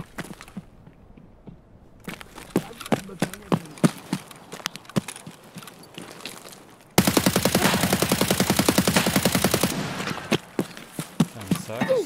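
Gunfire in Escape From Tarkov: sharp single shots crack irregularly, then a dense rapid burst of automatic fire, followed by more scattered shots, close and loud with a few soft voice sounds.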